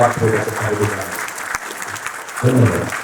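Audience clapping at a BNP political event launching an online payment gateway, a moderately loud burst of applause that swells at the start and again near the end, mixed with some background voices.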